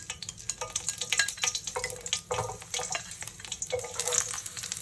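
Garlic and dry chili sizzle and crackle steadily in hot oil in a wok, with quick scraping stirs; close and moderately loud, with no talking.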